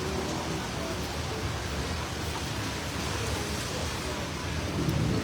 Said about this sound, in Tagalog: baskog ang ulan